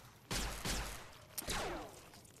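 Weapon fire in Fallout New Vegas: a few loud energy-weapon blasts crackle out, two close together and a third after a short pause, each with a bright sweeping decay and no talk.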